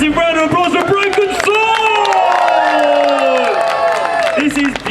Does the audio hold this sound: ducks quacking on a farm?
no